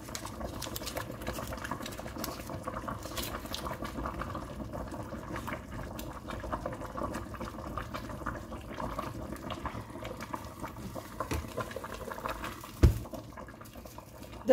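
Water simmers in a cooking pot for a Moroccan chicken dish with raisins, a low steady bubbling wash that carries on throughout at moderate distance with no voices, ending on a brief knock.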